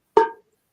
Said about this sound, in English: Now I have a cowbell hooked up on my foot, so you'll hear the pulse.